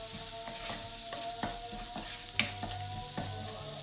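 Spinach with garam masala stirred in a pan; a soft continuous sizzle with a few distinct scrapes and taps of the spoon against the pan, close and fairly quiet, and no one talking.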